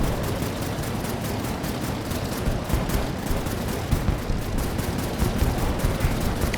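Continuous dense roar of missile launches and rapid gunfire in the aerial combat browser game Air Wars 3, built with Unity and HTML5, staying loud and unbroken throughout with no talking over it.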